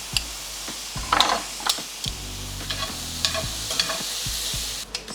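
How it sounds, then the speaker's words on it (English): Cauliflower rice and spinach fry in a pan, a continuous close sizzle punctuated by irregular clicks and scrapes of stirring, with a low hum running through the middle and no speech. "We'll fry up some cauliflower rice, and then throw in some spinach."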